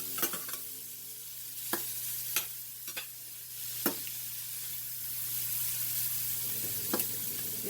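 Shrimp sizzling and frying in a pan over very high heat, a soft steady hiss broken by several sharp scrapes and clinks of stirring, quiet and close with no talking.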